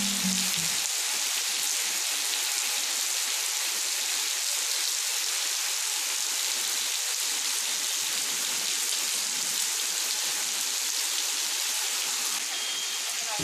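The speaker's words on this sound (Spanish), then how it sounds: "Llueve obstinadamente y en la calle vacía." Steady, persistent rain falls on an empty street, a dense even hiss of drops on pavement that stays constant and fairly soft throughout.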